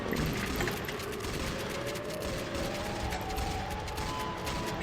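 Rapid gunfire in a Roblox game as players shoot at Siren Head: dense, continuous volleys of shots over a constant droning hum, fairly loud and sustained, with no one talking.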